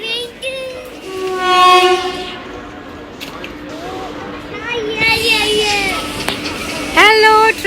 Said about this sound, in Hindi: हेलो ट्रेन आ गई